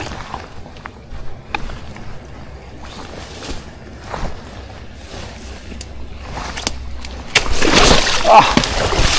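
Feet wade through ankle- to knee-deep water in the backcountry, sloshing and splashing up close, with the splashing growing louder and heavier toward the end while people talk.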